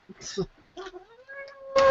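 A pet cat meows twice indoors during a live show, the first cry short and the second a longer rising, drawn-out meow, both fairly close and clear in a quiet room.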